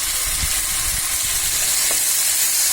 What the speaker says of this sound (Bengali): শুটকি আমার কষানো হয়ে গেল। এর মধ্যে আমি আলু দিয়ে দেব। আলু দিয়ে কিছুক্ষণ